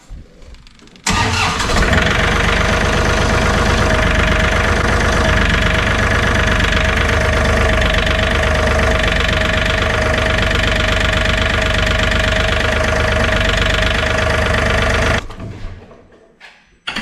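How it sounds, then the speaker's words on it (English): A John Deere 3320 compact tractor engine runs steadily for about fourteen seconds after a brief start, a loud, dense diesel rumble with a knocking texture, then cuts off and fades. "Start the tractor."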